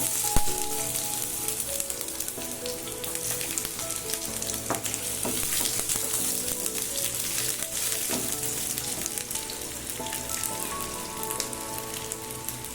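Garlic, ginger and urad dal roast in hot oil in a pan for beetroot thuvaiyal, giving a dense, continuous crackling sizzle with scattered pops throughout.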